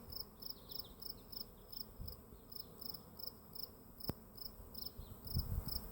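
A migrating swarm of large bees, bigger than honeybees, hums as a steady, dense buzz across the whole stretch, with pulsing high insect tones and occasional louder passes close by outdoors.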